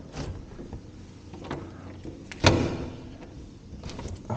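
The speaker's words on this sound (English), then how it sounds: "this door is not locked properly." Someone opens and shuts an apartment door in Unit 401 on Navigation St, with soft rattles and handling noises followed by one sharp, close thud midway through, over quiet room hum.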